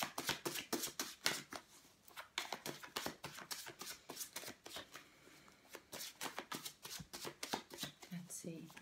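Tarot cards being shuffled in quick riffling bursts, close and crisp, with brief pauses between rounds and quiet background.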